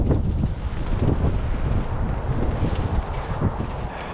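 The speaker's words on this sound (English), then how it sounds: "This wind's getting ridiculous." Strong winter wind buffets the microphone outdoors at a feeder-fishing spot, a constant loud low rumble with gusting surges and no break.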